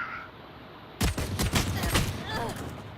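Rapid bursts of gunfire in the tactical shooter Valorant, several sharp close shots in quick succession after a brief quiet start, loud and dense, with faint game ambience underneath.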